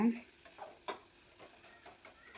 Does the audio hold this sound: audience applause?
no